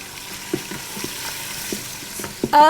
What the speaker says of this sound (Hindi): सौटे कर लेंगे सबको